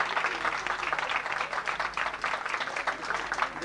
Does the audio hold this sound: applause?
yes